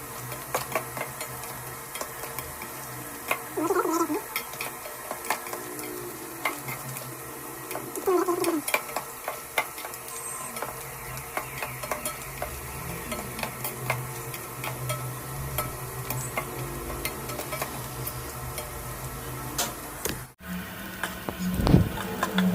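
Goat offal (boti) frying in oil in a pan for pickle, a continuous soft sizzle with frequent spoon stirs and clinks against the pan, close and moderate in level.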